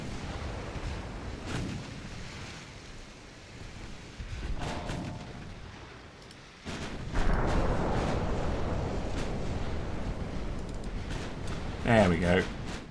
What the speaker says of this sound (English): Chickamauga absorbs a torpedo.